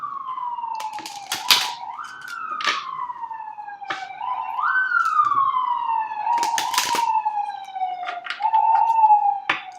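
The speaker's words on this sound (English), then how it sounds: "I've never noticed the sirens around where I live until I started doing these videos." Police sirens wail outside, a loud continuous rising and falling tone with harmonics, accompanied by scattered sharp clicks and taps nearby.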